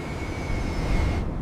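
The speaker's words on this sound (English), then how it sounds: "Behold the queen of the skies, the Boeing 747-8 freighter." A Boeing 747-8 freighter in a flight video game gives a steady, loud jet-engine roar with a thin high whine on top, holding for a second and a half before the upper hiss drops away near the end.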